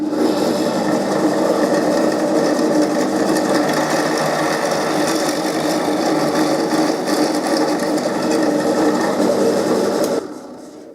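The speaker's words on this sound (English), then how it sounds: "I find if you do it in stages, the drill doesn't wander." A steady, loud grinding whir of a drill boring in stages into wood for an archtop guitar runs continuously, then winds down and stops near the end.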